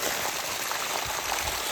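Water gushes from the 3-inch pipe of a GK Energy 5 HP solar pump as a soft, steady rush of flowing water, fairly faint and constant.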